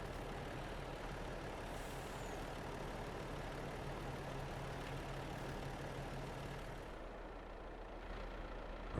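Truck driving in the farming game Farming Simulator 22, a steady, loud engine drone with a low hum that drops away near the end, and an air brake hiss faintly in the mix, with no talking.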